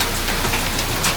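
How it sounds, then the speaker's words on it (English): Large hailstones pelt an off-grid home fitted with solar panels on its windows, making a dense, steady, broadband rattle and roar like heavy rain on a surface, loud and continuous with no voices. "we got some pretty good sized hail coming down."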